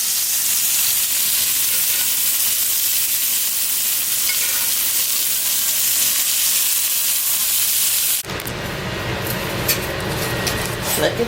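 A steak sizzles in a hot pan with a loud, steady hiss and crackle for most of the stretch, then fades into quieter room sound near the end, with people talking nearby.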